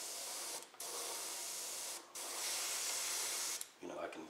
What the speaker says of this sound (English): let's try to spray it really light